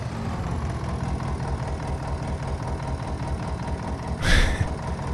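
A tractor engine runs steadily close by on a farm, a loud low rhythmic chugging idle with a short noisy burst near the end and no talking.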